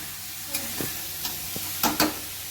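Carrot halwa with a bowl of sugar being stirred in a pan, a spoon scraping in a few separate strokes over a low steady sizzle, close and fairly quiet.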